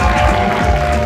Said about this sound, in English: And one more round of applause for Nicole, please.